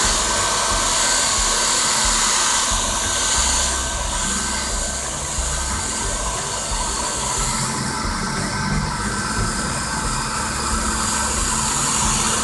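A hair dryer blows steadily and loudly over a bar of decoupage-decorated soap to dry freshly brushed varnish, a constant whooshing roar with a slight dip midway and no talking.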